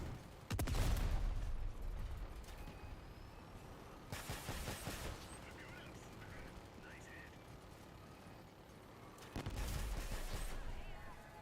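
Shotgun blasts in a video game ring out as three loud, booming reports spaced several seconds apart, each trailing into a rumbling decay over a steady bed of background game noise.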